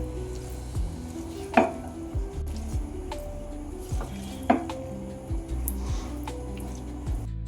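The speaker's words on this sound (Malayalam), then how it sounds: "ഇതിലേക്ക് കുറച്ച് കുരുമുളക് പൊടി ഒന്ന് ഇളക്കി കൊടുക്കുക" Pepper powder is stirred into chicken and vegetable pasta in a pan, with close scraping strokes of a spoon against the pan, soft squishy stirring and a low sizzle underneath.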